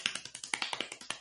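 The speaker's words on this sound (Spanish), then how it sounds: "No, yo estoy aplaudiendo emocionado" One podcast host clapping two hands, about a dozen sharp close claps in quick, slightly uneven rhythm, alone with no talk.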